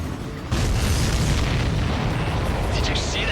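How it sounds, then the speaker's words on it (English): A missile explosion in the Ace Combat 7 video game, a sudden loud, roaring boom that holds steady as a dense rumble, with faint whooshing toward the end. "Did you see that explosion?"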